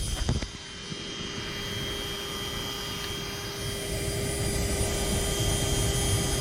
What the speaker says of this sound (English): Turn the key machine on.